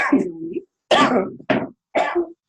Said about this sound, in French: pendant que tu tousses